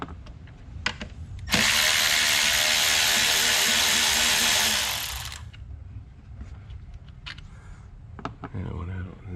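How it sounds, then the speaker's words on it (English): A cordless ratchet spins out bolts on a 2019–2026 Ram 1500 with the 3.6L engine, giving one loud, steady whirring burst of about three seconds amid quieter clicks and handling of parts. "I'm going to use a cordless ratchet because I have it available"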